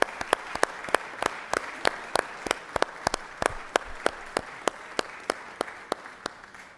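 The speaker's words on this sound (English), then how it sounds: "let's give them a big round of applause." Steady applause from a crowd in the Georgia State Senate chamber, with sharp individual claps standing out in a brisk, continuous patter throughout.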